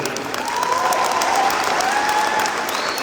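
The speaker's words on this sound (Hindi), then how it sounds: "यहाँ खड़े होकर लोग ताली बजा रहे हैं" An audience at a wellness event speech breaks into loud, sustained applause, a dense crowd of clapping hands continuing steadily throughout.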